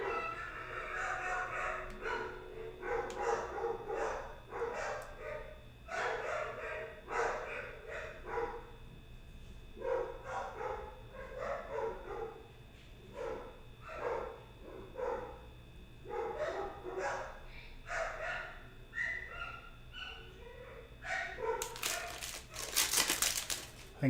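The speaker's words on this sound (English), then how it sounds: "then they'll stop barking like idiots" Several dogs bark repeatedly in bursts of yips and bow-wows, fairly close, at a house while someone is at the door, with a crinkling rustle near the end.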